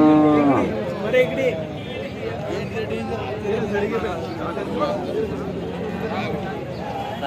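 Cattle at a livestock market, with one clear moo at the start rising over a constant murmur of crowd chatter and nearby talking voices.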